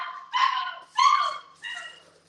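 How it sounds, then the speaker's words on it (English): A puppy barks three times in quick succession, sharp, close yips with whiny edges, separated by short pauses and nothing else around them. "This puppy's really loud."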